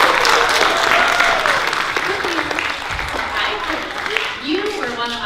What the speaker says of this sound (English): everyone give Allison a round of applause.